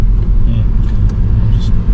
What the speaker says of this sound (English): Look at you driving your own car in Japan.